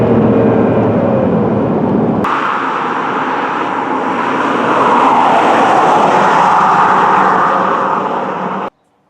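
An Amtrak train rushes past a 2003 Mercedes CL600 Renntech V12 biturbo, a loud, close roar that swells midway and then cuts off abruptly at the end, with no talking.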